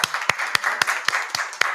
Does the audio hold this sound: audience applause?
yes